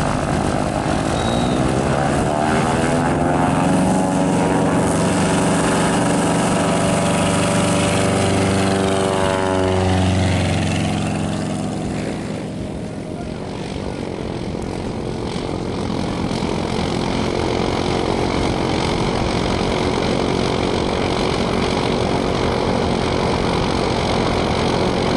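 Light propeller aircraft engines drone loudly and steadily during a desert rally takeoff, a close, sustained buzzing roar whose pitch sweeps as a plane passes by, then eases slightly before holding on.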